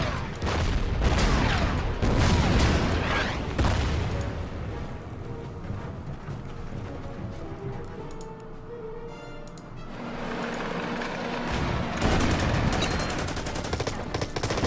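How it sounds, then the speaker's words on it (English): Gunfire and artillery from the Order of Battle: Panzerkrieg strategy game during the Sevastopol battle: bursts of rapid shots and booms, loud and dense at the start, thinning in the middle, then swelling again near the end, with no voices. "Start firing on this one."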